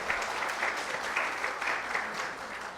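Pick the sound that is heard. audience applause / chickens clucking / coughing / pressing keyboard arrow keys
audience applause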